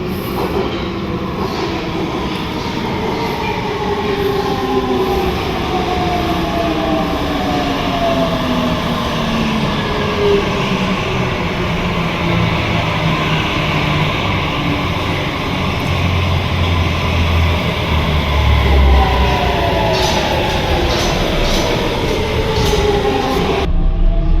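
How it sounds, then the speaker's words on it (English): A Budapest underground metro train pulls into a station, its rumbling roar building steadily with rising and falling whine and a brief squeal of wheels near the end, loud and close throughout. "And I think this is our train."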